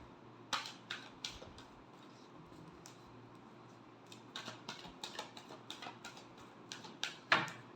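Tarot cards are shuffled by hand, making a quiet run of soft flicking and riffling clicks in an irregular rhythm, with a louder snap near the end.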